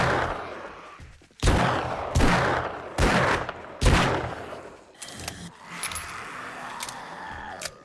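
Heavy magnum gunshots in the zombie survival game 7 Days to Die, about four loud, close reports at uneven intervals, each with a sharp crack and a short ringing tail, followed by quieter clattering and metallic clicks.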